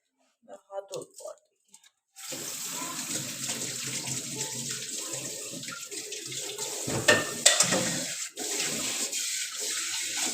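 Cold tank water runs steadily from a tap during handwashing, a continuous splashing broadband wash that starts abruptly after a couple of seconds and carries on to the end, with someone speaking briefly before it begins.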